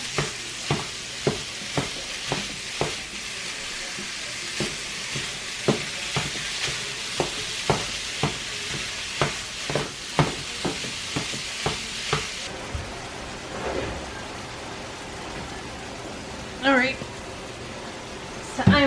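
Meat browns in a frying pan for a family meal, with a rhythmic series of spatula scrapes and stirs over a soft sizzle, the scraping stopping partway and leaving quieter sizzling with a couple of louder clatters.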